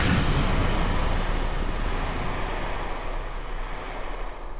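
Spacecraft splashing down in water in Kerbal Space Program, a loud continuous rush of surf and wind that slowly fades over several seconds, with no talking.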